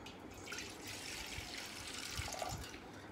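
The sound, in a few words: pouring water into a vessel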